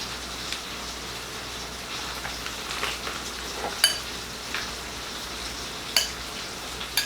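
Peas sauté in a pan for a vegan rasta pasta, a steady soft sizzle with faint frying crackle and a couple of sharper clinks of a utensil stirring.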